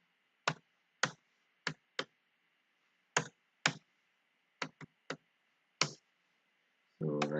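Individual keystrokes on a computer keyboard tapped out one at a time in an irregular rhythm, about a dozen sharp clicks against a quiet hum, ending in a brief burst of louder rustling noise.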